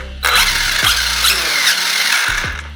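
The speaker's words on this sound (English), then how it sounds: "Give it a little bit of throttle." An Arrma 8S RC car's electric motor, running on 120C batteries with a new servo, revs loudly in short throttle bursts with a whining, high-pitched buzz and quick rises and drops in pitch over about three seconds.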